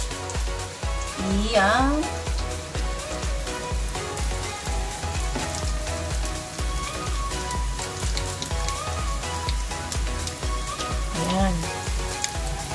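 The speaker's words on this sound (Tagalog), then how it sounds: "magpiprito na tayo. Ito na, mainit na yung mantika. Lalagyan na natin itong sanghay." Lumpia shanghai spring rolls go into hot oil and sizzle with a steady, dense crackle throughout, over a background of music while a voice speaks briefly now and then.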